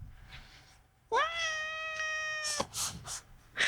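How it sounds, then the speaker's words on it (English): A cat lets out a single long, clear meow close by, rising then holding steady for over a second, followed by faint rustling and soft short sounds. "Good cat."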